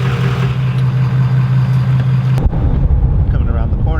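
A car engine idles steadily and loudly up close, then cuts off abruptly partway through, leaving a low, dying rumble and quiet room sound behind.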